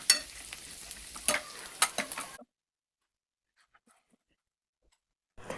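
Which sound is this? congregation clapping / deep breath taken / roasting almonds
roasting almonds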